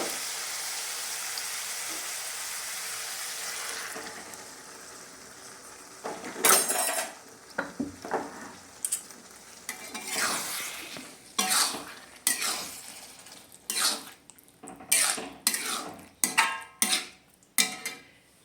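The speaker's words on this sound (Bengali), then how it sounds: "এবার ঠিক আমি এই পর্যায়ে সিদ্ধ করে রাখা ডালটা আমি ঢেলে দেব।" Boiled dal going into a pot of nearly cooked carrots, cauliflower and other vegetables, a soft pouring hiss followed by a run of clattering spoon strokes and knocks against the pot.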